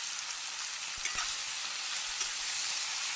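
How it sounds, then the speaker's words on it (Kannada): Crab masala for a Mangalorean-style crab sukka fries in a pan with an even, continuous hiss, punctuated by a few soft knocks from stirring, and nobody speaks. "ಈಗ ಫ್ರೈ ಆಗ್ತಾ ಬರ್ತದೆ ನೋಡಿ"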